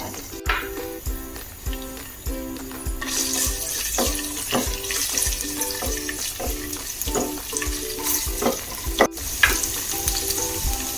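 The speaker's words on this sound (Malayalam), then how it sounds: "വെളിച്ചെണ്ണ നല്ലപോലെ ചൂടായിട്ടുണ്ട് അതിലോട്ട് നമുക്ക് ഇഞ്ചി ഇട്ടു" Ginger fries in hot coconut oil for elephant yam cutlets, a continuous crackling sizzle close by, punctuated by a rhythmic run of spatula scrapes and taps against the pan, with no speech.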